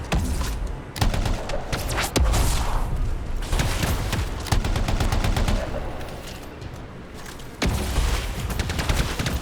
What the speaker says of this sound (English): I'm shooting at the freelancer